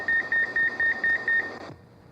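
A deep fryer's timer beeps in a steady rapid series of about eight short electronic tones over a kitchen hum, then stops, leaving the background noise to fade.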